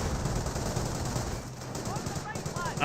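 Machine gun fire from an MG42 in the strategy game Company of Heroes, rapid bursts mixed with other gunfire and battle noise, fairly loud and continuous with a commentator's voice running over it.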